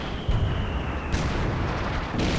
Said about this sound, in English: gonna drop in some concentration barrage now